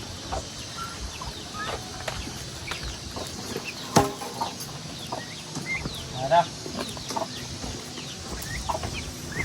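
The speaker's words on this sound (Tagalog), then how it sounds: "Doon naman tayo magpakain ng mga itik." Ducks on a farm give scattered clucking, quacking calls in short bursts over steady outdoor background noise, with a few louder calls near the middle and faint voices at times.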